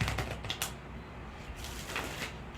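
A deck of tarot cards is shuffled by hand at close range, giving rapid, papery riffles and soft card slaps in short bursts, with no talking.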